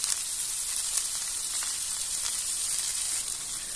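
Coriander bhakri flatbread sizzling on a hot griddle, giving a steady, close, airy hiss with small crackling pops throughout and no voices.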